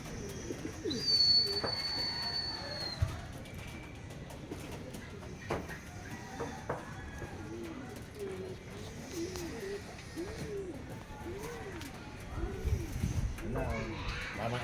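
Pigeons cooing in soft repeated rising-falling calls at moderate distance, with one sharp bird chirp early on and faint background outdoor noise.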